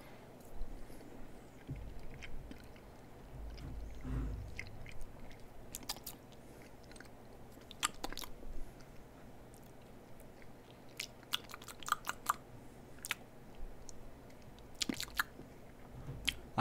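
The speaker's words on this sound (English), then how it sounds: "Here is the first spoonful" Soft, close chewing and squishing of a spoonful of SpaghettiOs with meatballs and tomato sauce, quiet and wet, with occasional sharper clicks and smacks scattered over a long stretch with no talking.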